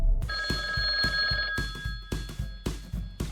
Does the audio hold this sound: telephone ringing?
yes